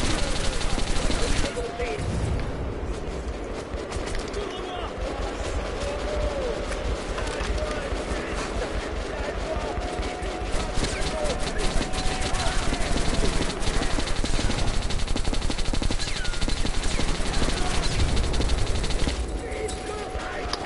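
Sustained game gunfire from the player's weapon in Metro Last Light Redux, a dense run of rapid shots continuing for most of the stretch over a rumbling background, with a voice talking now and then.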